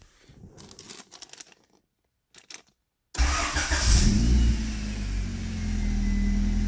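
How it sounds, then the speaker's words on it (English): A Honda ED/EF Civic fitted with an RFID push-start button kit: after quiet clicks and cabin handling, the engine cranks and fires at once, revs up loudly and settles into a steady, close idle. "Car is fired up."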